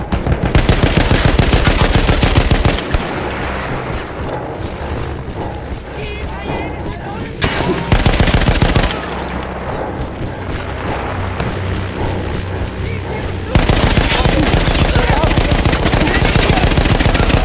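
Mounted machine gun fires in Battlefield 1 on a position manned by Austro-Hungarian troops: loud, sustained bursts of rapid fire at the start and end, with quieter stretches of battle noise and mechanical clatter between them, and voices partly audible.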